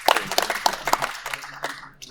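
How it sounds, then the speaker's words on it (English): A small handful of people clap briefly at a podcast recording, sparse separate claps that thin out after a second or two, with a voice speaking underneath. "Get a round of applause for the protocol roast"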